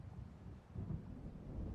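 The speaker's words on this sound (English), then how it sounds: "It seems there's a storm coming." Low, rolling thunder from a coming storm over open water in the video game Alan Wake, a faint continuous rumble with wind-like noise and no voices.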